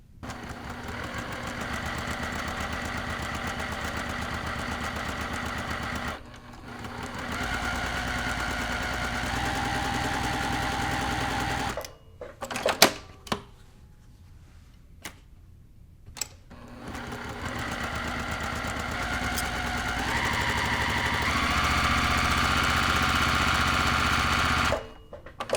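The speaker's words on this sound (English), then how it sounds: "I'm going to go to my sewing machine, and we're going to stitch directly on these lines" A sewing machine stitches straight lines across quilt fabric for an Ohio Star block, running in steady, continuous bursts with brief pauses between seams.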